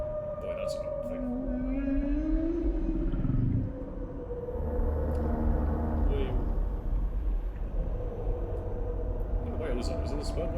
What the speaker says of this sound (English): What whale is that? Is it a sperm whale?